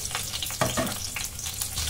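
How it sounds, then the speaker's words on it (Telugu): Green chili pieces dropped into hot oil, a dense close crackling sizzle with a couple of stirring scrapes over two seconds. "ఇప్పుడు ఆయిల్ వేడయ్యింది. ఇందులో పచ్చిమిరపకాయ ముక్కలు వేసుకుందాం"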